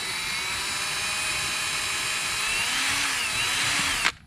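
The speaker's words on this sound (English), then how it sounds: "So I want to drill in the bottom" A power drill bores through the bottom of a Larson storm door on a greenhouse with a steady, close whine that holds for about four seconds before stopping abruptly.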